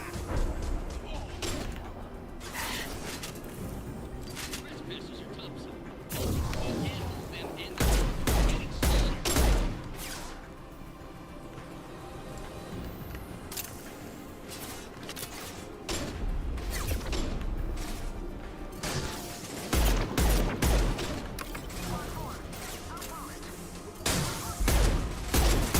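Gunfire in the video game Mass Effect 2, repeated bursts of shots and impacts layered with game effects and music, with someone talking over much of the action.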